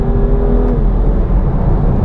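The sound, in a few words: BMW M2 Competition engine revving under acceleration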